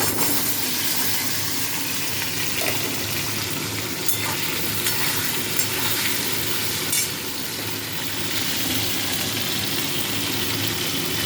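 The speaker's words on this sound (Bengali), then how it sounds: "কচুগুলোকে আমি খুব লাল করে ভেজে নেব" Loud, continuous sizzling of taro pieces frying in hot oil with nigella seeds and chillies, a dense crackling hiss with a few light clicks, no talking.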